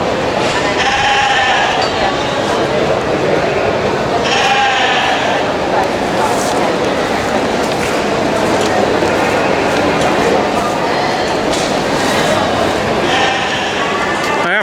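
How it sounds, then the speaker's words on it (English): Badger Face Welsh Mountain sheep bleat repeatedly and loudly, overlapping calls from a flock close by at an agricultural show, over a steady noisy background. "Badger, Face Welsh mountain sheep."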